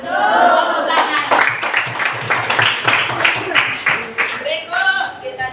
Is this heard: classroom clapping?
yes